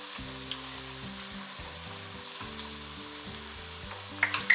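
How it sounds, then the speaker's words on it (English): Onions soften in a pot for broccoli cheddar soup, giving a soft, even sizzle close by, marked by a few faint clicks and a small clatter at the end. "our onions are softening up"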